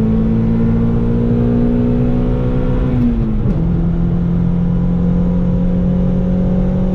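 A Chevy Beretta GTZ engine pulls hard through a third-to-second gear downshift, a loud steady drone that dips, briefly stutters at the shift, then settles into a fresh higher-revving pull.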